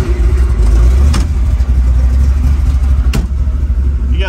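A 1941 Willys Coupe with a big block Chevy V8 running, a loud deep continuous engine rumble heard up close with a couple of brief sharp transients over the steady drone.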